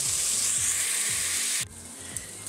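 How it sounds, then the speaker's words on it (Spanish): Bacon and beef fry together in a pan for a Venezuelan pepito sandwich, giving a steady, close hiss and crackle. The sizzle drops sharply partway through, as if stirred or lifted, while soft low scraping thuds repeat underneath. "Voy a empezar a colocar mi tocino, terminar de cocer la carne hasta que quede como por lo menos 3/4 y el tocino bien hecho"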